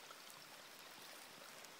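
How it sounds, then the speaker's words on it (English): Two small woodland streams flowing and converging on rural land, a steady soft trickling wash of moving water at moderate distance with no voices. "there's two streams flowing here."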